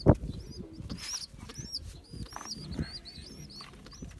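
Miro kınalı pigeons coo and chirp close by, with soft wing flaps and rustling in a loft and thin calls above.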